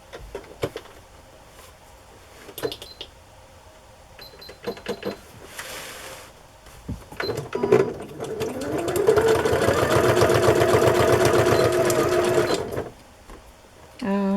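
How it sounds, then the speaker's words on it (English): A sewing machine whirs in a steady, fast stitching run for several seconds after some handling clatter, with a voice talking briefly before it starts. "I still have my red thread in my sewing machine."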